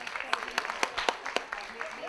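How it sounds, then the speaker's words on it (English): A brief patter of applause from a small audience, light and scattered, mixed with some voices in the room. "Give her a round of applause."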